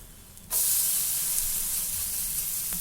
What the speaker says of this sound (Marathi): आता आपण डोसा पलटी करून घेऊया